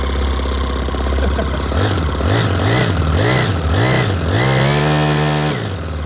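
A small four-stroke engine with a see-through head runs loudly and close by, its pitch rising and falling in repeated revs before holding steady at a higher speed.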